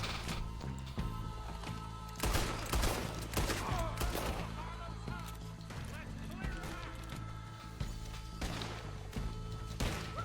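Rapid bursts of gunfire in Red Dead Redemption 2 crackle repeatedly, mixed with impacts and clatter, while a person talks over the action.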